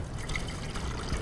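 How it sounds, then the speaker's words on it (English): Water poured into a one-gallon fermenting jug for fruit wine, a steady close trickle and gush of liquid lasting just over a second with no talking. "at this point, you just simply pour the water in to the 1 gallon mark"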